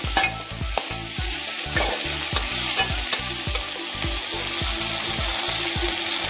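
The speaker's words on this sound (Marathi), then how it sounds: "आता आपण भाजून घेतले पावटा ह्याच्यामध्ये घालायचे. आता मिक्स करून घ्यायचं." Roasted green field beans (pavta) with turmeric are stirred in a hot pan, the sizzle running throughout under a steady rhythm of sharp spoon scrapes and clinks, close and fairly loud, with no voices.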